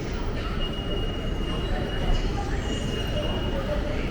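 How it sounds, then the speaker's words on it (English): A Delhi metro train heads toward Raja Nahar Singh Station with a steady, dense rumble of wheels and cabin noise throughout, while voices talk faintly inside the carriage. "now we're going to take the next metro to Raja Nahar Singh Station"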